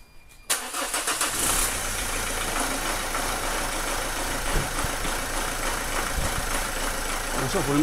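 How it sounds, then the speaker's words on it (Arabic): A Renault engine with an injection warning fault cranks and catches with a sudden burst, then settles into a steady, loud idle that rumbles on without pause. "تو باش نشغلوا المحرك"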